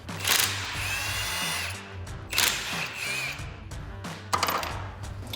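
A power impact wrench on the lug nuts of a 2010-2015 Camaro wheel fires in three loud, close bursts of whirring and rattling, separated by short pauses.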